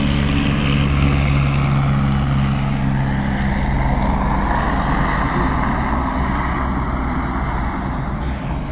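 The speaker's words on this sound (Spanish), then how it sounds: "vamos a esperar un helicóptero aquí que está pasando" A helicopter passing over a park, a loud steady rotor and engine drone with a low throbbing hum that persists throughout and fades slightly toward the end, with no talking.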